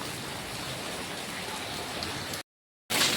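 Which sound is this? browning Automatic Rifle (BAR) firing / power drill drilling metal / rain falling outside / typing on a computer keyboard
rain falling outside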